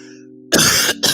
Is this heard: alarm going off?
no